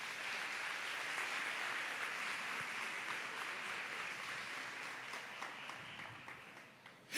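Sustained applause from a church congregation fills the space evenly, a dense wash of many hands clapping at a steady level with no pause.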